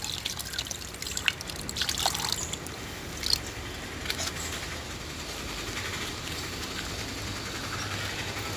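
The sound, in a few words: water being poured while washing a bicycle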